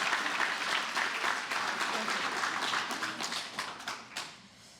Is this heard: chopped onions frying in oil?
no